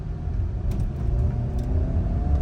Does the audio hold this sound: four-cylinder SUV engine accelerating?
yes